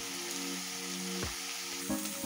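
Half a kilo of finely sliced cabbage hitting a hot pan for a cabbage and pea sabzi, a steady broadband sizzle with a couple of brief stirring bursts, close and fairly loud, no talking.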